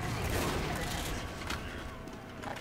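Scattered gunfire in Team Fortress 2, quiet bursts of shots mixed into a busy game soundscape while a player is pinned down and under attack.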